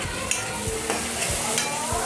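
Onion fries in a pan for a Konkan colocasia dish, giving a steady sizzle with a few sharp scrapes as it is stirred.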